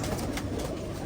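Soft, continuous cooing from a red-eyed female pigeon of the Dabbali type, low and steady under a noisy, broadband backdrop with no voices.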